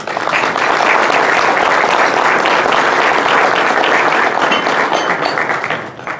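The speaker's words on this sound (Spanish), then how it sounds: "Un aplauso, por favor." Sustained applause from the audience at a climate change geography lecture, a dense, steady wash of many clapping hands filling the room throughout before tapering slightly at the very end.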